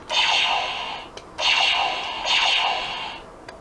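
A Kyuranger Kyu the Weapon toy in Q Shot blaster mode fires three electronic zapping blasts, each a bright buzzing burst about a second long with short gaps, close and without talk.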